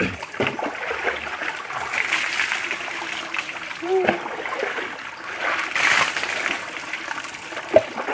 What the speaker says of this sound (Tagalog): Yung aming tubig dito sa sapa mga kaloyloy.